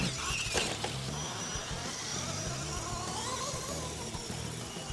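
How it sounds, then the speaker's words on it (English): Steady high whine and buzzing from the axle gears of an SMT10 Gravedigger RC crawler converted to belt drive and running on 2S, continuous and fairly loud throughout with a few brief clicks near the start. "I think the noise you're hearing is from the axle gears."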